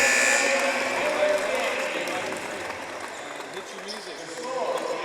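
A loud end-of-quarter buzzer blares at a high school boys' basketball game over a roaring, cheering crowd, with an announcer's voice talking excitedly through the noise.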